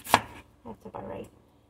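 A knife chops an onion into small pieces on a board: one sharp, loud chop followed by a few softer, quicker cuts, close and without talk.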